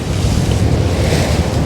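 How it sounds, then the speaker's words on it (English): Sea water on a reef splashes hard against rocks, a loud, continuous surging roar close to a fishing boat, mixed with heavy wind buffeting. "The water splashing up against the side of the rocks"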